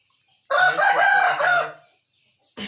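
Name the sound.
Aseel rooster crowing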